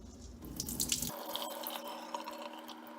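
Water pours and splashes briefly as it is drained off rice, then thins to light trickling and dripping in a quiet room.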